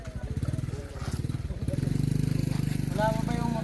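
A motorcycle engine idles with a rapid, throbbing putter that revs up partway through, with voices talking nearby.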